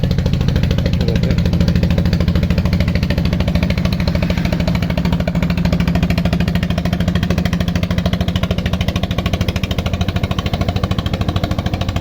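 A motor boat chugs along the Jamuna river at Nalin Bazar, Tangail, in late afternoon: a loud, steady, rapid engine putter that holds close and even the whole time, with no voices.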